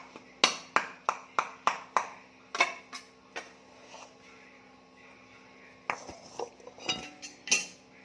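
A metal plate and small bowl of cooling sweet are shaken and tapped, giving a quick run of bright ringing clinks, then a pause and a few scattered knocks, close and fairly loud over a steady mains hum.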